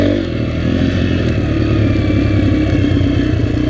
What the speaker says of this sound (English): We're back on the dirt bike and we're ready to ride.